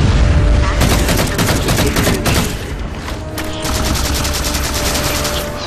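Rapid automatic fire from an assault rifle in the Halo 4 video game: a dense, continuous stream of loud shots in quick bursts, with brief pauses, under game noise and occasional voices.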